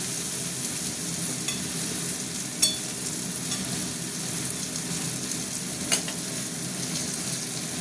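Onions frying in oil for a spicy red chicken curry, a steady close crackling sizzle running throughout, with a couple of sharp utensil clicks over the hiss.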